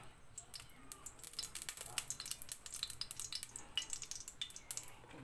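Cooking oil heats and sizzles in a clay pot for chicken-feet adobo, a crackly sizzle with irregular pops and spatters close by, fairly soft and continuous.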